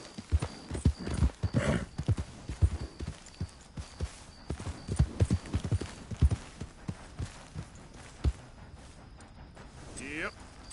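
Horse hooves clip-clop at a steady trot on a trail in Red Dead Redemption 2, close and rhythmic, with brief talk over the top and a short whinny near the end.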